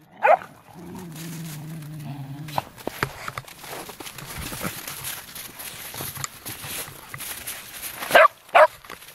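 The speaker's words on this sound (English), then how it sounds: "No barking at me." A dog barks sharply twice near the end after a low whimpering whine at the start, close by, amid quiet shuffling and footsteps.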